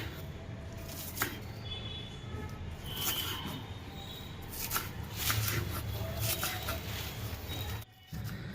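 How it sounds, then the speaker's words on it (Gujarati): Green onions are chopped on a board with a knife for dry Manchurian, a quiet, quick run of crisp tapping cuts repeating steadily throughout, close up with no talking. "200 ગ્રામ આપણે લીલી ડુંગળીનું કટિંગ કરીએ છીએ."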